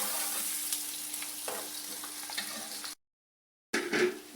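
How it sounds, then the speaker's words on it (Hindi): Onions frying in a pan for karela gosht, a soft steady sizzle with occasional stirring scrapes, broken by a brief silent gap before the frying resumes. "इनके आप देखें प्याज भूनना शुरू हो चुके हैं।"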